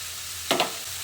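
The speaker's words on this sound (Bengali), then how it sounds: "এবার আমি যে আলুগুলো ভেজে রেখেছিলাম সেগুলো এর মধ্যে দিয়ে দিচ্ছি" Pre-fried potatoes drop into a sizzling spice paste in a pan, causing a short double burst of sizzle over a low, steady frying hiss.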